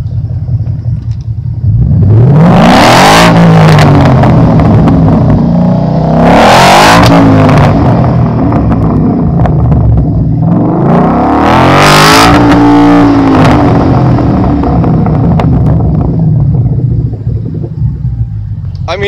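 A loud Ford Mustang engine with new exhaust pipes revs hard three times, each roaring up and falling back over a deep, rumbling idle, with voices faintly underneath.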